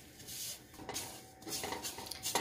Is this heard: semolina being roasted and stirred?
yes